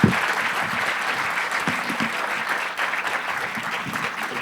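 Audience applauding a panel after a storytelling talk, steady dense clapping from a crowd sustained throughout, fairly close and even in loudness.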